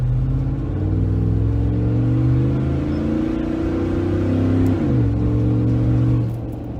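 A Ford F-150 pickup with its exhaust exiting beneath the back seat accelerates hard, a loud deep engine drone rising steadily in pitch, dipping briefly at a gear change, then climbing again before easing off.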